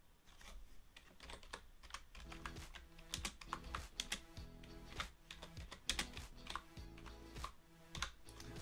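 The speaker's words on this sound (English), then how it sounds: "I'm going to type some text." Steady typing on a computer keyboard, with dense, quick key clicks at close range and no voices, quiet throughout.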